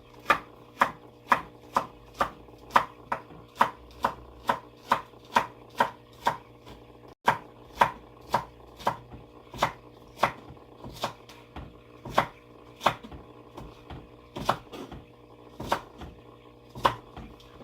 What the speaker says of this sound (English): So we're going to try to chop this celery into...